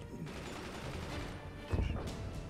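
Rapid machine gun salvos from a fortress battle in the strategy game Forts, a busy stream of crackling shots with a louder burst of impacts near the end.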